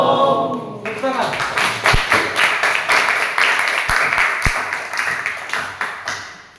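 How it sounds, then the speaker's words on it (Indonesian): A group of students claps after a presentation in a class, a burst of rhythmic hand clapping that follows a brief voice, with sharp near taps, then gradually fades. "Tepuk tangan."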